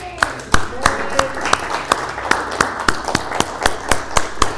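Rhythmic, evenly spaced claps from a congregation at a spiritual center service, sharp and fairly loud over a softer bed of scattered applause and faint voices.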